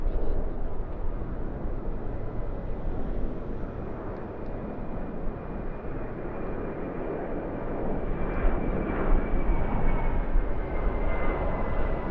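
A Jetstar A321 jet departs from runway 34 right at Sydney Airport, its engines producing a steady, loud roar that swells slightly toward the end.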